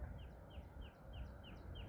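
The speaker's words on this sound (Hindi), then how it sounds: "पक्षियों की आवाज के साथ" Birds call outdoors with a crow cawing, a regular series of short calls repeating at a steady pace over a soft, constant background wash, faint and fairly distant with no speech.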